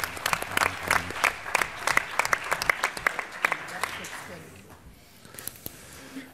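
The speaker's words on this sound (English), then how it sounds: "So now we can applaud." Audience applause at a cardiology conference on heart valve procedures, a burst of dense clapping that thins out after a few seconds, with voices talking over and after it.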